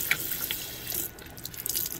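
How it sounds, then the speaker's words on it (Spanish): Hot tap water running while washing in a bathroom, a close steady stream with splashing and dripping that grows busier partway through, heard alone. "Yo siempre digo con agua calientita del chorro, así nos ayuda a que salga todo el jabón, toda la suciedad"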